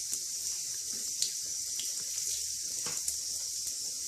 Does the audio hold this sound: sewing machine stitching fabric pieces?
no